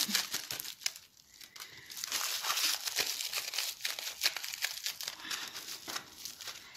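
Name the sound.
crumpling aluminium foil into a ball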